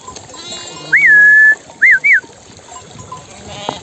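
Sheep give three loud, close bleats at a mountain water fountain on a summer pasture: one long bleat, then two short ones, over quiet running water and faint background noise.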